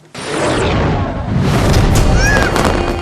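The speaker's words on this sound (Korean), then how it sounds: "위험한 커플 역시 폭죽을 터뜨리다 사고가 났는데" A firecracker set off by a couple during an anniversary celebration bursts with a sudden loud boom, then a sustained crackling, hissing rush that lasts several seconds, with brief faint high tones.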